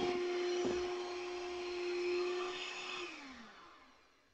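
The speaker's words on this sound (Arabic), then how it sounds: "راح أضيف باقي المكونات وأستمر بالخفق" An electric mixer whips cream with added ingredients for a no-bake cold milk cake, a steady, close motor whir holding one pitch before winding down and fading away.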